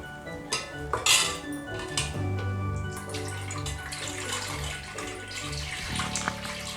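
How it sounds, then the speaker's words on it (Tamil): Flour batter for halwa being strained through a sieve, with clattering of utensils against a vessel and a wet pouring, splashing sound, close and alone without talk. "கரைச்சி வடிகட்டிக்க போகிறோம்"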